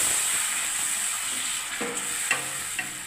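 Tomato paste, ginger and green chilli paste fry in a pan for a vegetarian vegetable curry cooked without onion or garlic: a steady close sizzle and hiss with a few soft stirring scrapes near the end.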